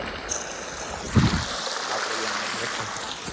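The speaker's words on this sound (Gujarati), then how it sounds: "પાણી ચાલુ હો" A steady wash of running water flows close by, broadband and even, with a brief louder splash and faint voices underneath.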